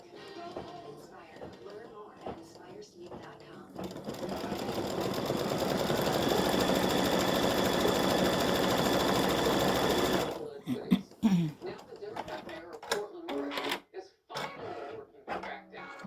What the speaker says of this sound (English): it's finished stitching the little highlights in the beard